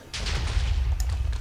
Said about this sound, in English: Do a bit of explosions, see if we can catch this on fire.